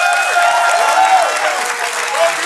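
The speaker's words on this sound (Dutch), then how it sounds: "mogen we dan toch een applaus voor Nondejuke?" Applause for the student society Nondejuke at a student competition event in Maastricht, a loud crowd clapping steadily for a couple of seconds, with some cheering mixed in.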